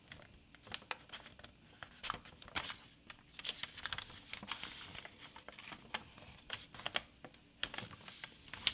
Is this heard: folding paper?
yes